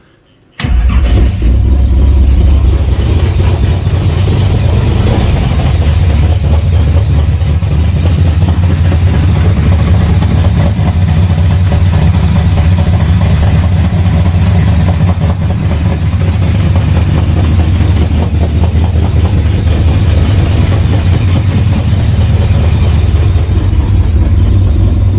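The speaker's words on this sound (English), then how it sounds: "Davo'S Camaro is alive. She's firing up." The V8 of a 1968 Chevrolet Camaro hot rod with a carburetor cranks and catches right away, then settles into a loud, steady, rumbling idle that continues close by for the rest of the clip.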